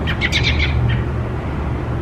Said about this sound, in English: this guy's chirping a lot